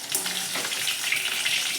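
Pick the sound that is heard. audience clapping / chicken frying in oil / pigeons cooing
chicken frying in oil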